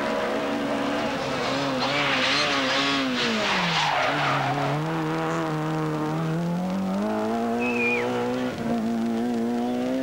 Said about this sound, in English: Bizzarri in the Renault Clio Williams and still leading at this point